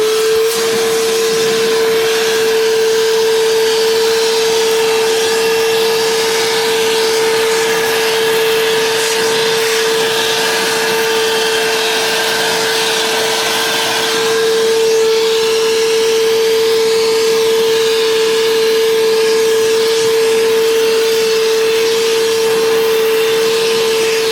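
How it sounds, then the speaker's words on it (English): A loud Evolution R11VAC-Li cordless wet and dry workshop vacuum motor runs continuously with a steady high whine, its pitch dipping briefly partway through before settling again. "Let's have it on the vacuum part, otherwise we're going to be breathing a lot of that."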